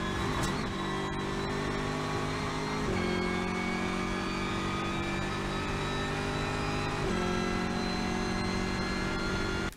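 GT race car engine at Paul Ricard during a 6-hour endurance race, a loud continuous onboard roar that drops in pitch twice as the driver lifts and shifts through the gears approaching a corner, with no talking.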